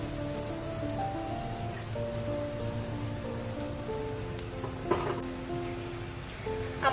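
Potato pakoras deep frying in hot oil, a steady, soft, rain-like bubbling sizzle throughout with a faint clink or two near the end.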